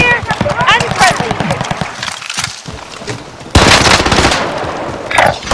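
Rapid machine gun bursts rattle in a video game, loud clusters of shots in rapid succession with short pauses and a sharp renewed volley, while people talk over it.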